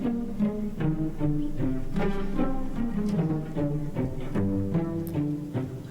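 Solo cello plays a longer melodic quote from a James Bond theme, a run of bowed and plucked-sounding notes at a steady pulse, clear and unaccompanied at moderate volume.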